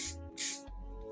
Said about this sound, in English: I'm just gonna spray a little bit of hairspray